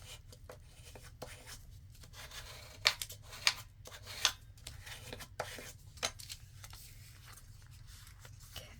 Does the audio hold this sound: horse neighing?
no